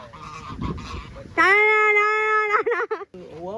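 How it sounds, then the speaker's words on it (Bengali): A goose in an African village gives loud, drawn-out nasal honks followed by shorter broken calls, close by, with voices and rustling in the background before it. "এই যে রাজহাঁস।"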